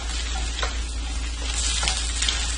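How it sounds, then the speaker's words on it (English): Vegetables and egg for fried rice stir-fry in a pan with a steady, close sizzle. Occasional stirring scrapes cut through the sizzle, and no one speaks. "Now you want to continue to stir your vegetables and your egg."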